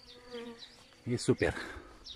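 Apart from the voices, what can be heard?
honeybees buzzing at the beehives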